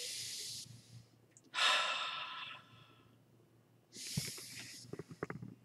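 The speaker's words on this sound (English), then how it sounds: "It's called Ujjayi breathing" Ujjayi ocean breathing during yoga: slow, close, audible breaths with a hissing, throaty rush on each inhale and exhale, separated by quiet pauses and ending with a few soft clicks.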